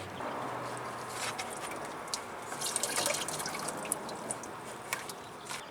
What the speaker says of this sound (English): with the lower hose clamp loosened, it's going to start leaking again